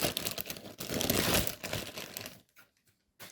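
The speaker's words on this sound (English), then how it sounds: "And here inside is the figure, inside this plastic bag." Plastic bag crinkles and rustles loudly and continuously for about two seconds as a TNG Quetzalcoatlus (T5011) dinosaur figure is pulled from it, then a few faint handling taps follow in near silence.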